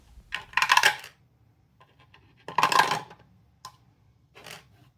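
Dice tumble through a dice tower in two loud clattering bursts, the second longer, followed by a few small ticks and a fainter final rattle, close and alone without talk.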